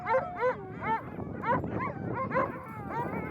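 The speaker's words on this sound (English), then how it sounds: "every year we honor our longtime companions, our dogs" Sled dogs in Nunavik barking and whimpering, a close run of repeated yips and whining barks in an uneven rhythm, several dogs overlapping.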